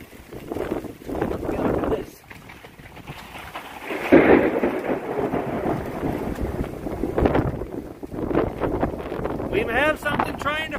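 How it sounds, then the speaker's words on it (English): Steady rain hisses while deep thunder rumbles roll through beneath a rotating supercell storm in Warren, Pennsylvania, with a voice speaking over the downpour. "Comes the rain, great."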